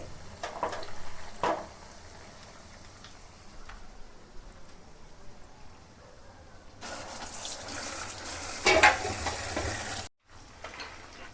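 Chicken 65 frying in a pan, a soft steady sizzle that swells louder and brighter in the second half, with a couple of sharp knocks near the start and a brief dropout before the end.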